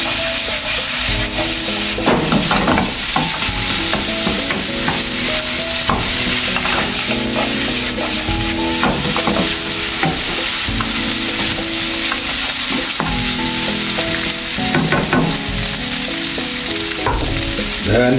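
White yakisoba noodles are tossed and stirred in a hot frying pan, giving a loud, continuous sizzle broken by repeated utensil scrapes and clacks throughout.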